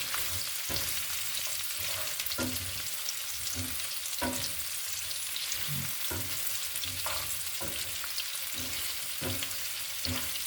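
Spare ribs frying with garlic in a pan, a steady close sizzle broken by regular soft knocks and scrapes of a spatula stirring the meat.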